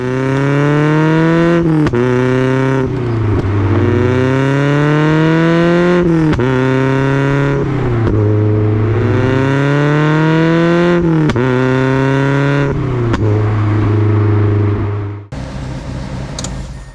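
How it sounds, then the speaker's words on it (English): A Mazda NC Miata with a Racing Beat midpipe drones loudly nearby, its exhaust note rising and falling through repeated revs and shifts in a steady pattern, then dropping abruptly near the end. "You still get that little bit of burble."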